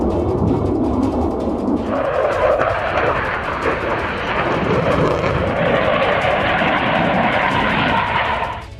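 A Gripen fighter jet roars overhead in a loud, continuous, rushing drone that holds steady for nearly nine seconds, with no voices.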